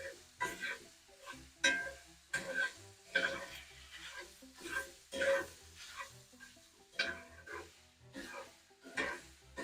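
Sausage browning in a pan, a soft sizzle with repeated scraping and stirring strokes that come in irregular pulses, close but fairly quiet, with no talking.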